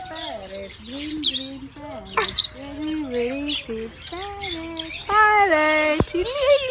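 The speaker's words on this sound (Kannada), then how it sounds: "ಆ, ಪಕ್ಷಿಗಳಿದೆ" Birds chirp and call repeatedly in short, varied tweets and whistles, some rising and falling, close and fairly loud throughout, with a few sharper squawks near the end.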